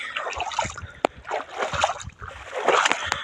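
Irrigation water runs into an ajwain field on a farm. The splashing and sloshing is close and moderately loud, uneven, with a few sharp splashes standing out from the steady wash.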